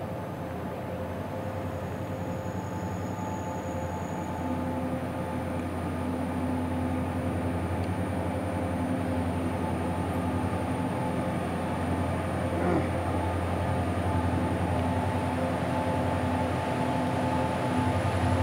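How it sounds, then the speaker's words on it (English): A goods train grinds slowly up an incline near Doodhsagar, a steady heavy rumble with a strained engine drone and faint metallic squeals, sustained and moderately distant. "The train seems to be struggling its way up."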